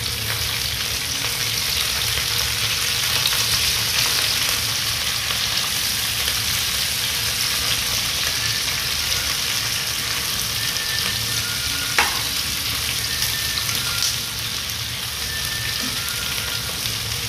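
Vegetables stir-frying in a hot pan for Filipino pancit bihon, a steady broadband sizzle that holds loud and close throughout, with occasional faint clinks and scrapes of stirring and no talk.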